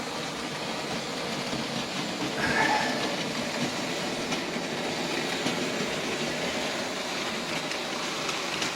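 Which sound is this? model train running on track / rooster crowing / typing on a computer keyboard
model train running on track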